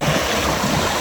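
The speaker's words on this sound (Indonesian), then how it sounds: "Oh, saya di sungai nih. Kita menyeberangi sungai." River water rushes loudly and steadily as someone wades across a stream, a dense broadband roar with no voices.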